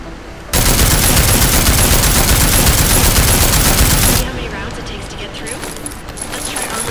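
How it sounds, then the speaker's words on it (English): Sustained light machine gun fire from the video game Deus Ex: Mankind Divided, a loud continuous burst of rapid shots lasting several seconds before cutting off into quieter game ambience. "It's like an LMG."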